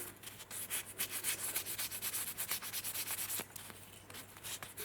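A polishing pad rubs oxidized copper wire-wrapped jewelry in quick, rhythmic back-and-forth strokes, a soft, close scratchy swishing repeated many times with brief pauses.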